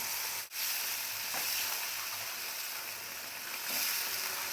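Coriander leaves, green chilli and cumin fry in a pan, making a soft, even sizzle that holds steady throughout at a low level without talking.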